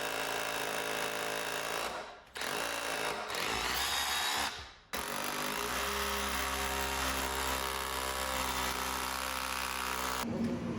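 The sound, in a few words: power drill fastening wooden wheelchair ramp to concrete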